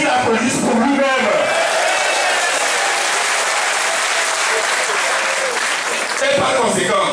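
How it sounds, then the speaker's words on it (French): A large crowd at a political rally claps loudly and steadily for several seconds, with scattered cheers and voices mixed into the dense applause. "Je voudrais que tout le monde se dise, je me félicite et qu'il applaudisse pour lui-même."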